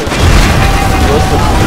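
Exploding tables in the shooter game Stranglehold burst with a loud, dense boom and rumbling crackle that fills the short moment without any talking.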